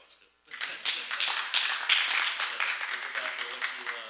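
A round of applause at a freeholder meeting starts abruptly and holds as a dense, close patter of many hands, with voices faintly underneath.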